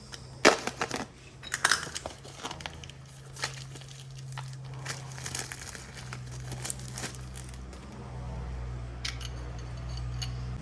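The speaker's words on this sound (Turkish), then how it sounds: "O arada yeni balatamızı açalım." Packaging is opened for new rear brake shoes for an RKS Sniper 50cc scooter drum brake, with close crinkling, tearing and crunching bursts of plastic and cardboard, irregular and fairly quiet, with no talking.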